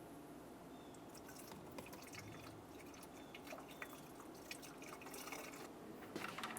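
Washer fluid poured into the windshield washer reservoir of a 2013-2017 Honda Accord gives a faint, steady trickle and light dripping against low background noise.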